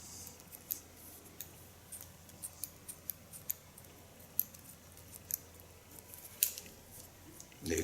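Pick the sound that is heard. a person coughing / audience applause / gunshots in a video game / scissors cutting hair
scissors cutting hair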